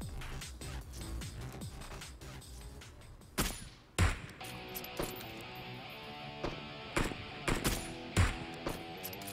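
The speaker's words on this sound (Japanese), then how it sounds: "いや、横から銃声する。" Sharp gunshots crack out in bursts in PUBG Mobile, a few louder single shots standing out over continuous busy game sounds and music.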